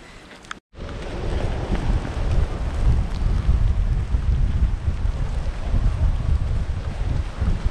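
Steady, loud wind with rain buffets the microphone during a trail race in Brittany in a low rumbling roar after a brief cut near the start, with no talking.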